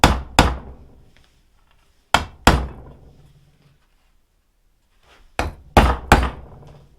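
A big screw used as a center punch is hammered into a hydrofoil wing to make starter holes for screws: sharp metallic taps in pairs and triplets, close and loud, separated by quiet gaps.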